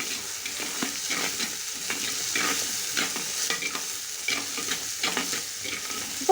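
Onion, tomato and garlic sizzle steadily in a hot pan while being stirred, a continuous crackling fry with soft scraping strokes of the spoon throughout.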